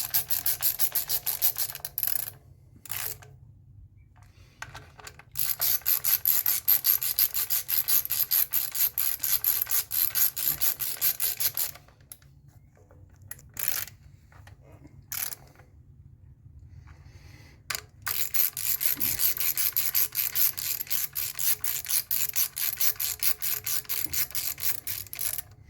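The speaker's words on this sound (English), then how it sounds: "ratchet." Hand ratchet turning on a 2008 Toyota Camry during a misfire repair, long runs of rapid close clicking strokes broken by short pauses, loud and alone.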